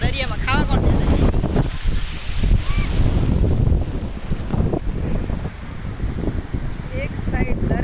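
Sea waves and strong wind roar at Chher beach in Kutch, with heavy wind buffeting the microphone throughout and people talking briefly over the surf.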